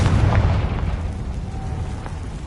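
A Confringo blasting curse explodes in a Harry Potter video game, giving a single deep, rumbling boom that swells at once and slowly fades, loud and close, with a faint high ring at the tail.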